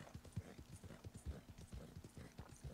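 Horse hooves clip-clop in a steady walking rhythm in Red Dead Redemption 2 on a ranch, faint and quiet, with a few soft thuds standing out among the regular beats.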